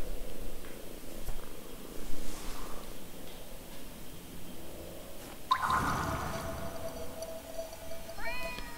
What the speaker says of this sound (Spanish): ¡Oh, un gato!